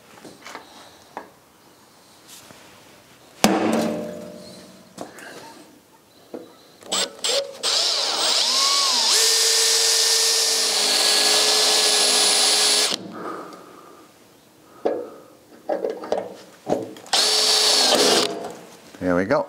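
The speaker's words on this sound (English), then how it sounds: "so now I can drill it" A power drill drilling out a rusted bolt on a David Brown 990 tractor whirs in several bursts, starting and stopping, with a sustained high-pitched run in the middle, between clanks and scattered handling noises.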